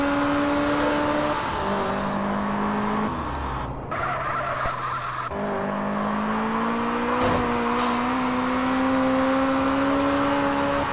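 A car driving in the mobile game Grand Mobile, a steady engine drone that rises and falls in pitch with gear shifts and brief skidding, continuous and fairly loud.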